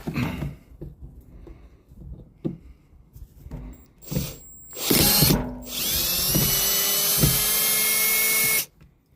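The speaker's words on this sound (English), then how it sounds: "So I just gotta take my time and get all these screws out." A power drill backs screws out of the underbelly of a water-damaged RV, with short ratcheting bursts and clicks early on, then a loud, sustained high-pitched whir near the end, close and without talk.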